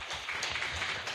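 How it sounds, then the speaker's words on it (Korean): A church congregation at a Korean Sunday service gives a brief burst of applause, a dense, steady patter of many hands clapping together for about a second, moderately loud and fairly close. "박수 한번 하십시다"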